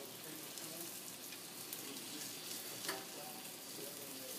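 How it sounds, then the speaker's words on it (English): Chicken sears in a hot pan for chicken marsala, a steady, even sizzle close by with a faint brief clink partway through, no speech. "all we're doing is browning it and creating like a crust almost"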